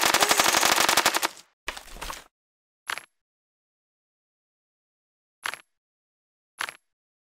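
Machine gun fire in the Kick The Buddy video game: a loud continuous rapid burst at the start, then a shorter burst and three single sharp shots separated by silence.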